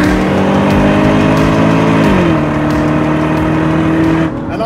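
A Porsche Cayenne S V8 engine drones loudly and steadily from close by, its pitch shifting once midway and its note settling near the end.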